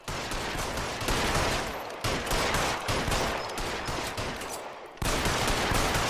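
Rapid gunfire in the video game L.A. Noire during a shootout, with dense overlapping bursts of shots that run almost continuously and loudly throughout, with no talking.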